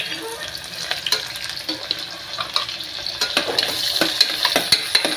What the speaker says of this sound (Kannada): ಆಮ್ಯಾಗ ಇದು ಉಳ್ಳಾಗಡ್ಡಿ ಕಟ್ ಮಾಡ್ಕೊಂಡಿರ್ತೀವಲ್ಲ ಅದನ್ನು ಹಾಕೋಣ